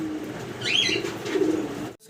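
Pigeons at a fancy pigeon market, Danish and Golla breeds, give a soft cooing call near the middle of a short stretch, with a murmur of voices and background noise around it.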